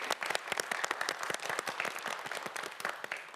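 A studio audience on a televised quiz show applauds a student contestant; dense, brisk clapping from many hands, fairly close and continuous, with no talk over it.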